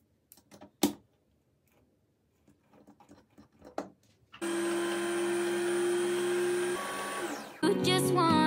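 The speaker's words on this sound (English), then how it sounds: "just need to wind some bobbins up" After a few scattered taps and clicks, a sewing machine hums steadily as it winds bobbins for free-motion quilting, then the tone shifts and a louder whirring continues to the end, close and with no speech.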